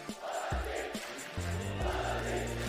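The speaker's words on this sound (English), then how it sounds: "You hear the crowd trying to will Fnatic back into this one" Esports arena crowd at a Valorant championship match between Fnatic and XSET, a loud sustained roar of cheering and chanting filling the space, with a low booming tone underneath throughout.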